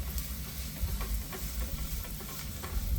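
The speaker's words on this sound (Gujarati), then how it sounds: "આપણા પરાઠા શેકાઈ રહ્યા છે." Cabbage paratha frying on a hot pan, a steady low sizzle with faint crackles running throughout, alone with no voices.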